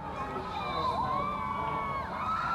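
A crowd at a Northfield Park District youth basketball game cheers and shouts, with children's voices and whoops rising steadily over the full clip and staying loud throughout.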